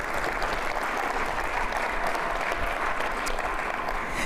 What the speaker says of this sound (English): We can give a round of applause for that.